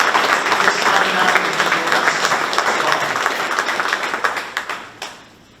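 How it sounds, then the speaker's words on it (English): Audience applause at a community memorial event, a dense steady wash of clapping that thins out and fades over the last second. "Please give him also a round of applause."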